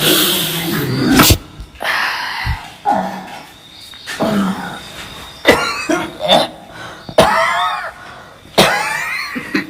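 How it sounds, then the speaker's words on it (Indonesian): Repeated harsh coughing fits from someone with a cold and flu, close and loud, several bursts spread across the clip with short pauses between them. "Maaf batuk, pilek, flu."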